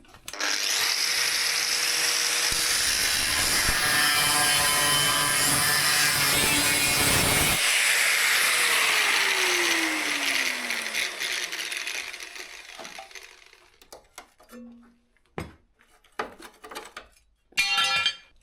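A power tool cuts through a crash-damaged Nissan 350Z chassis rail in sections, a loud continuous grinding for about ten seconds that winds down, followed by scattered metallic clanks and knocks.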